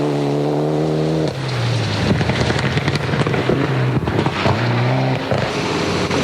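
A brand-new Mitsubishi Evo 8 production rally car runs hard through icy, wintry Southland stages, its loud, close engine droning steadily with clear pitch shifts between gears.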